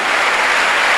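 Church congregation clapping together in steady, dense applause, loud and continuous throughout with no talking.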